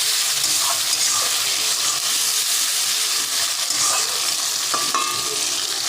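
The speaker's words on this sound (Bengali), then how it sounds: "একটা টমেটো কুচি দিয়ে দিয়েছি একটু হালকা ভেজে নেবো" Loud, continuous sizzling of chopped tomato frying in a pan, with occasional scraping and stirring clatter close by.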